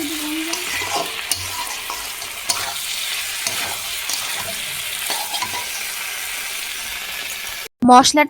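Spice masala for a soybean curry sautés and sizzles steadily in a pan, with occasional stirring clinks of a spoon against the vessel, ending abruptly in a brief louder burst.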